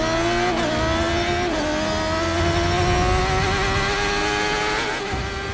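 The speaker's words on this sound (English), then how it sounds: "where you can close off a road and race a motorbike around it" Racing motorcycle at the Isle of Man TT on a closed public road, engine note climbing steadily in pitch as it accelerates, loud and continuous with no talk.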